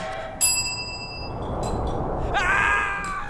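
Game bell rings in Halo 3 on the Floodgate map: a bright, sharp metallic strike with a sustained ringing tone, followed about two seconds later by a second strike, both over steady background game noise.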